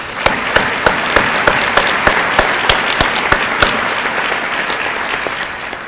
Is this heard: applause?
yes